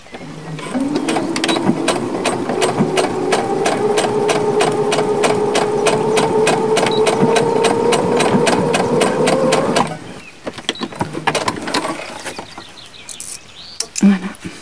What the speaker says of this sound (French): je couds à peu près 1 centimètre